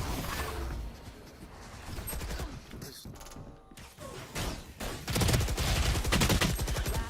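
Gunfire in a Valorant match, with bursts of rapid shots and mechanical clatter, loud and dense, broken by a short lull before heavier firing returns.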